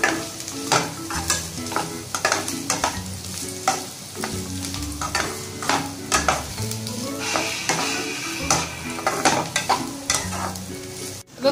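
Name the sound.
stir-frying chicken with cabbage for fried rice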